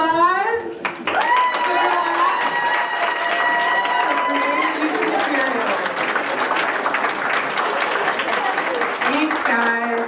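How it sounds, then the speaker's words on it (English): Applause from a convention crowd at NerdCon 2013 fills the room steadily and loudly for about ten seconds, with scattered cheering and voices mixed into the clapping. "Final round of applause."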